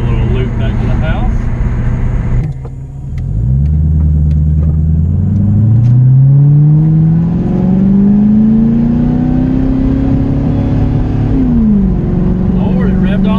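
A Ford Thunderbird engine revs up steadily to 4000 rpm, its pitch climbing over several seconds before dropping back, with a continuous rumble underneath and a voice speaking at times.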